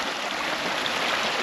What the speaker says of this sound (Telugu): ఇది చిన్నగా వస్తుంది వాటర్